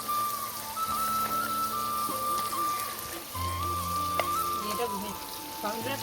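Ginger and garlic paste dropped into hot oil on a clay stove, sizzling and crackling steadily with a brief pause midway, while a faint tonal hum runs underneath.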